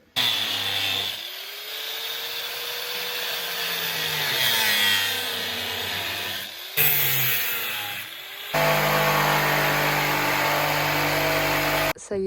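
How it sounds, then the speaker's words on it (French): An angle grinder grinds down protruding screw points inside a van, a loud close whine in several long bursts separated by short pauses, with a falling tone as the disc spins down between passes. "on va venir avec la meuleuse, peut-être meuler ici"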